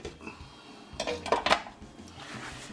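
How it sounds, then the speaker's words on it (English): A metal lid is set onto a pot of chicken and dumplings in a home kitchen, a few faint clinks and a light clatter clustered near the middle. "Let me get the lid on it"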